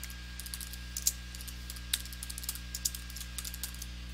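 Quiet keyboard typing as a name is entered into a table on a computer, a run of light irregular clicks over a low steady hum, with a few sharper keystrokes standing out.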